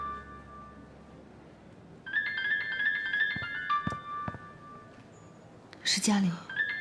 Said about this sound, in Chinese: 你的电话。